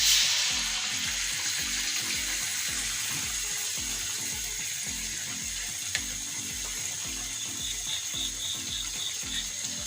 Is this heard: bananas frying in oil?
yes